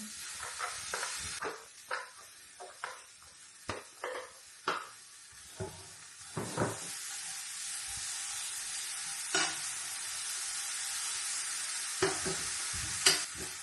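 Adobo with a few potatoes cooks in a pan, sizzling steadily up close while a utensil stirs and scrapes in repeated short strokes, then the frying settles into a quieter hiss between occasional stirs.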